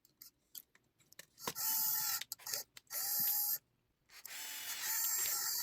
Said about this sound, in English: Not a very difficult task screwing into wood.